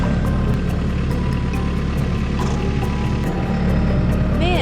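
A TYM tractor runs a new auger attachment, a loud, steady low engine drone with continuous mechanical rumble close by and no pauses.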